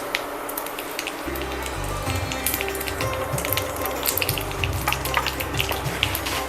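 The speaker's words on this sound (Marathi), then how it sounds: "एक चमचा जिरं घालूया आणि हिंग नेहमी पोटाला चांगलं असतं त्यामुळे आपण थोडंसं पण घालूया त्याच्यात" Cumin seeds and asafoetida sizzle in hot oil for khichdi, a close, steady crackle with small spattering pops throughout, no talking.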